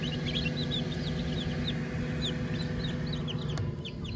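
A mother hen clucks softly and repeatedly outdoors on a small farm, with chicks peeping high and quick above a steady background hum.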